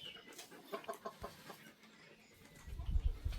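Chickens clucking on a Philippine farm pen, a few soft irregular clucks early on, then low thumping handling noise toward the end, faint overall.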